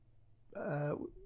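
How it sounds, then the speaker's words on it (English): A man clears his throat once with a short, close, gravelly rasp that fades into a low tail. "So let's clear my throat."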